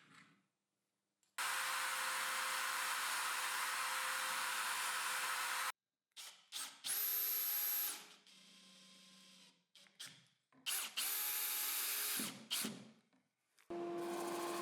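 Power drill boring holes in a wooden router base plate glued onto HPL: a long steady drilling run, then several shorter bursts with clear pauses between them, close and loud, no talk.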